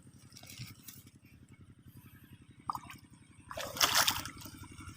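Water flows and sloshes as bitter gourd plants are irrigated in a field during a dry spell, with a low steady pump-like pulse throughout and a louder splashing burst near the end.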